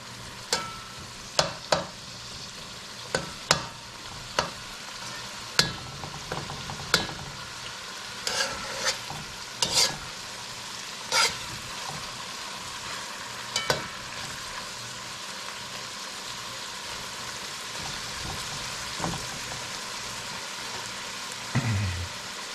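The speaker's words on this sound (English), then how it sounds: "So I'll let that saute for a few minutes and then add this sweet okra." Aromatics sautéing in a pan before okra goes in for an okra and smoked fish dish, a steady soft sizzle punctuated by repeated sharp spoon taps and scrapes against the pan, no voices.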